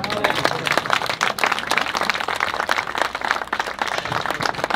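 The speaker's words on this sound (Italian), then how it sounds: "Qua ci vuole l'applauso" An outdoor crowd claps and applauds at the inauguration of a footbridge over the Malone stream, a dense, lively patter of many hands sustained throughout, close and fairly loud.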